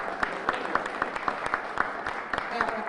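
Audience applause for Lazim Swan at a Black American Heritage Month event in Springfield: a small crowd's scattered, fairly quiet clapping with distinct individual claps, with faint voices underneath.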